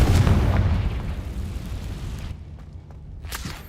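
A fiery Confringo spell blast from the Hogwarts Legacy video game lands as a loud, booming explosion that rumbles and slowly fades, with a few faint crackles near the end.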